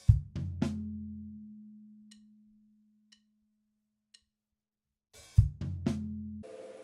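Drum fill played on a kit with a hi-hat scrape, bass drum, floor tom and snare. A cluster of punchy hits starts the passage, and one low tom note rings and decays. A few faint ticks follow before a second quick burst of hits at the end.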